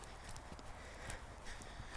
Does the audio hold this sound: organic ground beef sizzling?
no